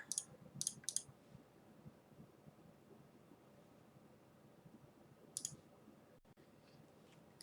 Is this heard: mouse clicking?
yes